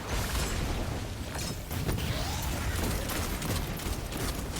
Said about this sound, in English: Those explosions.